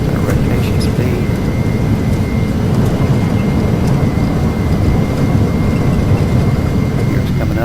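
An Embraer Phenom 300 jet in a flight simulator game rolls down the runway for takeoff, giving a steady, loud, unbroken engine roar that never lets up.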